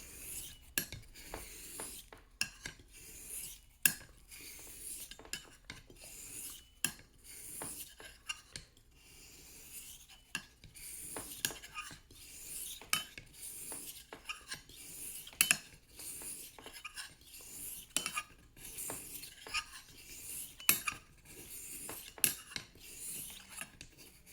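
An antique straight razor is honed on a stone, faint close-up rasping strokes repeating in an irregular rhythm back and forth along the edge, with no talking.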